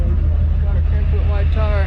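A Ford F-350 shorty truck, rebuilt after being cut in half, runs with a loud, rough, throbbing idle, pulsing in a steady beat while voices talk over it.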